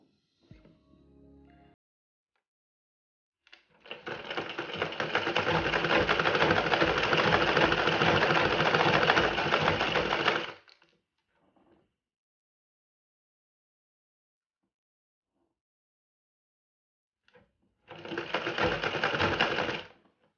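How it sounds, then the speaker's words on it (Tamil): Sewing machine running a straight seam through fabric in a tailoring lesson: a short burst, then a steady run of about seven seconds, a pause, and another brief run near the end, close and clear with no talk. "ஸ்ட்ரைட்டாக அப்படியே தச்சிட வேண்டியதான்"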